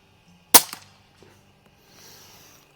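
A single sharp crack of an air rifle with an FX barrel firing a heavy pellet, close and loud with a quick decay, followed by a faint distant tick and soft rustling.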